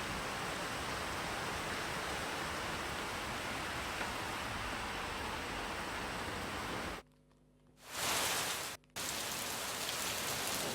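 Heavy thunderstorm rain in Bengaluru pours as a steady, even hiss, broken by two short cuts near the end before resuming, with no speech.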